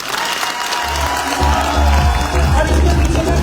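A crowd at a business motivational event claps and cheers, swelling louder partway through, with deep thumping bass music pulsing beneath the applause.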